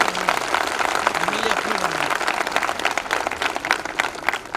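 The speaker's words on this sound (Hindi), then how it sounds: "एक बार खुद के लिए जोरदार ताली होनी चाहिए डियर फ्रेंड।" Loud, sustained clapping from an audience at a function in Malkapur fills the room, dense and continuous with a voice faintly audible underneath.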